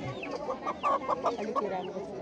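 A local rooster at a chicken market gives a series of soft, short clucks against a quiet, busy background murmur.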